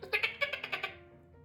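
A person imitates a goat with a quick string of about seven short, nasal bleating cries, fairly quiet and close, fading out at the end.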